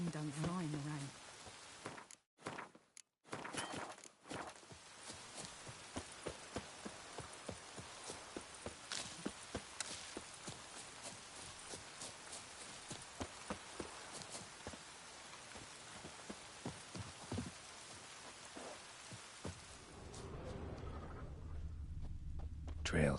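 Rain falling in The Witcher 3, a steady hiss of rain on the ground under regular hoof clops of a horse walking, with a voice speaking over it near the end.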